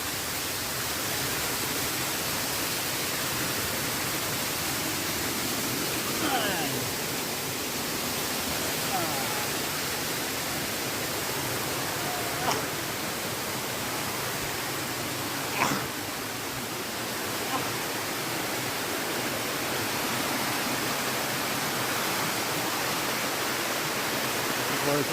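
A waterfall pours in a steady, dense roar of rushing water, close and loud throughout, with faint voices now and then barely rising above it.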